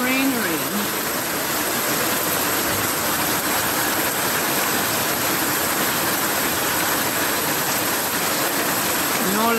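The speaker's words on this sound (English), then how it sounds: "Rain." Heavy hurricane-season rain pours down, a dense, constant hiss and patter on surfaces, loud and unbroken, with a faint engine-like hum and occasional distant voices beneath it.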